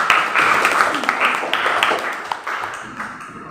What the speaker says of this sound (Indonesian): Oke, tepuk tangan untuk Mbak Ayu